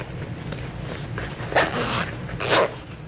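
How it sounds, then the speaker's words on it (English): A small zipper on the top of a fabric pouch is pulled open in a few short rasping bursts, close and fairly quiet, with faint handling noise around it. "zipper top pouch"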